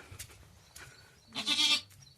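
A village goat bleats once, loud and close, after a few soft rustling sounds in a goat shed, with quiet surroundings.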